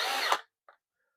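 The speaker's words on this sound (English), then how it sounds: "put a couple of screws in there." A power drill briefly whirs to drive a screw while reassembling a GPZ-7000 metal detector, one short, close burst that cuts off abruptly, followed by a faint click and near silence.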